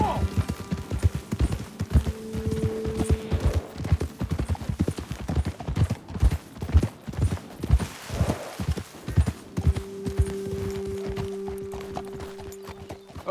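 Steady horse hooves clopping at a trot in Red Dead Redemption 2, rhythmic and fairly close, with a low hum and faint voices in the background.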